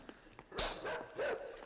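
A dog in the video game Inside barks and snarls while chasing, a couple of faint yips followed by two loud, close, harsh barks.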